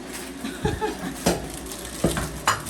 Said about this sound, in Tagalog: Ganito kayo magluto ng pansit kanton dahil nga mabilisan na.